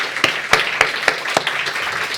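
A church congregation clapping in thanks during a Thanksgiving service, heard as about five distinct claps spaced evenly and fairly loud over a low room hum, with no voices over them.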